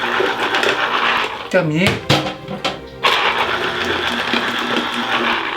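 An electric citrus juicer presses lemon halves with a loud, continuous motor whir and grind. A person speaks briefly midway over the machine, which then carries on running steadily.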